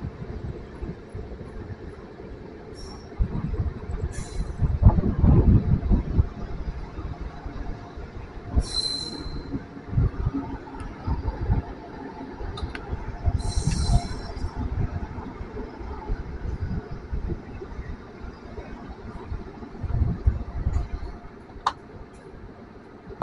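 The Barauni Rapti Sagar Express rumbles at Chhapra Junction, a loud, continuous low roll of railway wagons with high wheel squeals rising and fading over about twenty seconds, and no one speaking.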